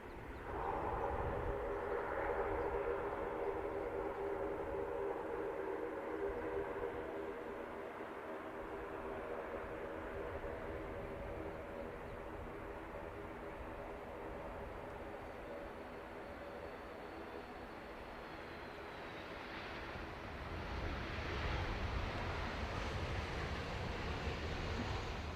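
A Ryanair airliner from Warsaw at Dublin Airport, its distant jet roar holding steady with a tonal whine, then swelling louder toward the end; no talking.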